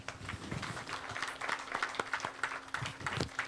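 An audience at a COL Financial opening-remarks event claps for speaker Charles Ang, a moderate, steady patter of many hands with individual sharp claps standing out, heard from inside the hall.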